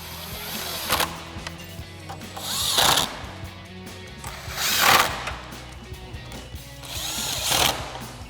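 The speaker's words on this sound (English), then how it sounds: "So now we'll get our 4 lower screws in first, again with our 10 mil socket and extension on our impact." An impact driver with a 10 mm socket and extension runs screws into a 2014-2018 Sierra 1500 headlight assembly, giving four short buzzing bursts spaced a couple of seconds apart over a steady low background hum.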